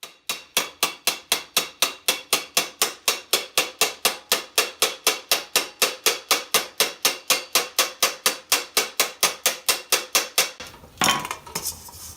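Metal rivets being hammered into the collar piece of a suit of armor, a fast, even run of sharp ringing blows close by, followed by a short scraping clatter.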